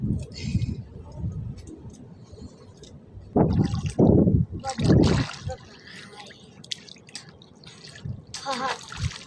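Children bathing in water outdoors splash and slosh in irregular bursts, with dripping and trickling between the splashes and voices calling out now and then.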